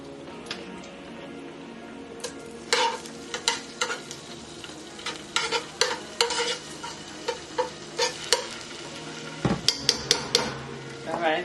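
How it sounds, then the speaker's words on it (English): A tablespoon of minced garlic sizzles in hot oil in a pot, a soft steady fry under a run of sharp irregular clinks and taps from a utensil against the pot, close by. "I'm adding a tablespoon of minced garlic to my pot"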